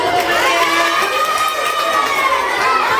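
A crowd of elementary school children in a classroom cheering and shouting with some clapping during an anti-bullying session. The noise is loud and continuous, a dense mix of voices throughout.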